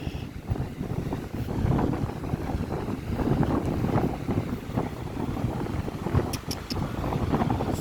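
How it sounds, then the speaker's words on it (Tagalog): Steady wind buffeting the microphone outdoors, a continuous low rumbling roar with gusty swells and a few faint high chirps near the end. "Sarap ng hangin."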